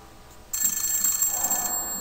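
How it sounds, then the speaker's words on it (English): A telephone rings in the horror video game The Suffering. The ring starts abruptly after a quiet moment and carries on as a steady, bright electronic tone over a low murmur of game ambience. "Is the phone ringing in there?"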